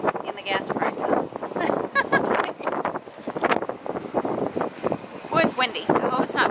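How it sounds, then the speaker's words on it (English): Wind buffets a camera microphone outdoors on the Little Red River, producing uneven rumbling gusts that rise and fall under a voice talking throughout. "Boy, it's windy. I hope it's not picking up on the camera."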